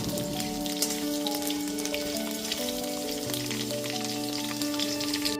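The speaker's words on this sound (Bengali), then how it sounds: "1 মিনিটের মতো আলু আর কুমড়োটা একটুখানি ভেজে নেব।" Potato and pumpkin pieces fry in a pan over a medium gas flame. A soft, even sizzle crackles steadily and fairly quietly beneath sustained background musical tones.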